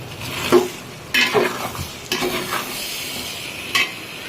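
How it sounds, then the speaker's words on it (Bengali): Chunks of potato and pumpkin scraped and stirred in a pot of khichuri, several uneven strokes with a soft sizzle underneath and a light metallic clink. "আলু, মিষ্টি কুমড়া দিয়ে ভালো করে নেড়ে নিলাম।"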